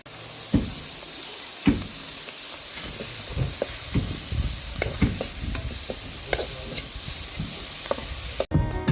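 Lunch cooking outdoors on a stove, with dal and fried chillies in an old pot, giving a steady close sizzle and hiss while a utensil stirs and scrapes in scattered knocks.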